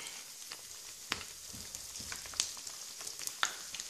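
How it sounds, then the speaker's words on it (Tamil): Banana flower vadai dropped one by one into hot oil, giving a faint, steady sizzle with scattered soft crackles and pops, no voices. "எண்ணெய் சூடேறினதும் நம்ம ஒன்று ஒன்றா அப்படி போட்டுக்கலாம்"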